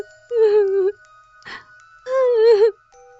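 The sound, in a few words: someone crying in a horror story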